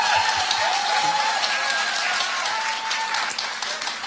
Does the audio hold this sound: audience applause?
yes